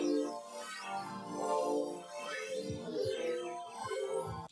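Layered spectral wavetable synths play a sustained chord progression in a color bass track, shimmering and dense with a steady level and no voices.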